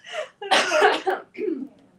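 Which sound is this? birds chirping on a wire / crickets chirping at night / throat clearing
throat clearing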